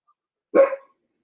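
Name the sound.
dog barking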